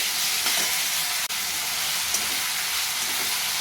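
Garlic paste and potato frying in a pan, a steady close sizzle and hiss running unbroken with faint stirring scrapes.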